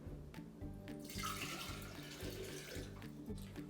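Two cups of cold water pouring into a jar, a continuous close trickle and splash with a gurgling rhythm as the jar fills, steady and moderately quiet throughout with no talk.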